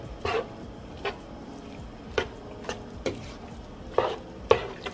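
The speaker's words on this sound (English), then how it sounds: "I'm going to turn the fire back on and I'm just going to stir this up" Taco filling stirred in a frying pan, a soft steady sizzle running underneath while a spoon scrapes and taps the pan in a few sharp, irregular strokes.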